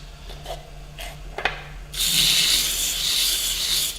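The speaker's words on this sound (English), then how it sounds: "All right, I'm just going to sand it." Sandpaper held against a spalted beech bowl spinning on a wood lathe, heard after a few quiet seconds as a loud, steady, close hiss that continues without pause to the end.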